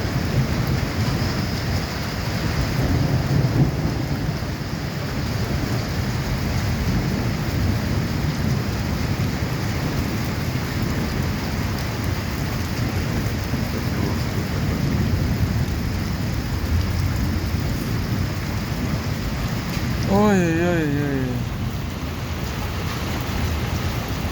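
A heavy thunderstorm pours rain in a dense, loud, continuous hiss, with low rumbles of thunder rolling underneath and a brief warbling tone near the end, with no voices.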